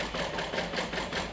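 A sewing machine runs steadily, top stitching along a fold of fabric for a wand holder, giving a close, even whirring hum with slight rhythmic pulsing for a brief stretch.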